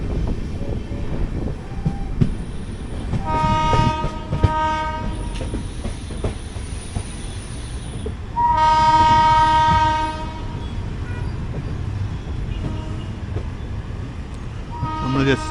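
The 11301 Udyan Express rolls out of Bangalore Cantonment station with a steady rumble and rhythmic clatter of the carriages, and its horn sounds twice in long blasts. Voices are faintly audible.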